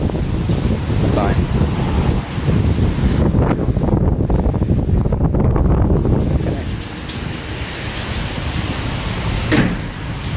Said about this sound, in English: Yeah, a bit windy today.